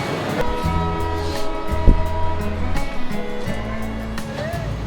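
Passenger train on the Dhaka to Khulna line pulling away from Mirzapur station in a new imported coach, with a steady low rumble, tonal hums and a brief thump near two seconds, heard from on board.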